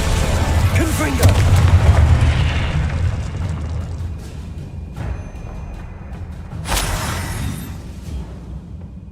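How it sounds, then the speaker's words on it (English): A Confringo explosion spell in Hogwarts Legacy lands as a deep booming blast that rolls into a rumbling decay, followed by sharp crackling bursts as more spells hit, with a voice heard over the action. "Confringo."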